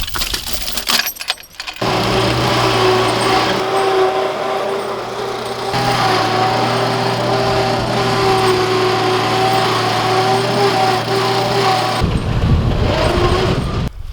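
Small engine on a Woodland Mills HM122 sawmill running steadily while milling, a loud close buzzing drone with a high whine, starting after a brief clatter and continuing with slight shifts in load.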